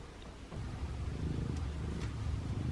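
A soft, low cat purr rumbles steadily and close by, quiet and continuous with no voices.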